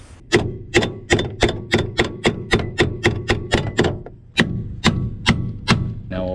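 Steady hammer taps driving a car door hinge into place, about fifteen sharp metallic knocks in a quick even rhythm with a short pause midway, close and loud, no voices.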